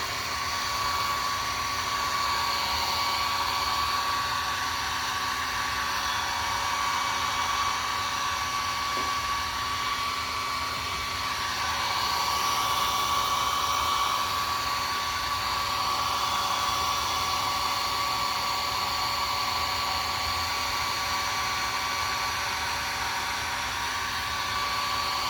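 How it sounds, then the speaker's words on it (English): A hair dryer blows continuously at close range over acrylic paint on paper, a steady whooshing whine that swells slightly midway, running without pause. "let me dry it off with the dryer just a minute"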